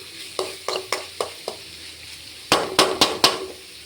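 Dried chillies, onion, garlic, ginger, coconut pieces and curry leaves are sautéed in a pan for prawn roast. A soft sizzle runs under two rounds of spatula knocks against the pan: five lighter taps, a pause, then four louder, quicker ones.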